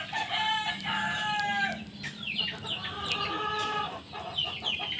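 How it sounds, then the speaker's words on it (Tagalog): Rooster crowing with loud drawn-out calls up close, mixed with steady clucking from a chicken on a farm, both heard alone with no talk over them. "Maingay yung manok"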